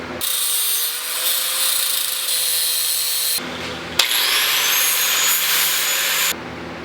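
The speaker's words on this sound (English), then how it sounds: "I'm going to go ahead and cut all this excess material off of this ring." A power tool cutting excess material off a ring welded onto a motorcycle exhaust baffle for a Honda Grom, a loud sustained whine that stops briefly twice and then resumes, with a sharp clank in between.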